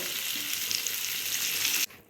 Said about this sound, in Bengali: সবগুলো আলু কিন্তু খুব ভালোভাবে ভাজা হয়ে গেছে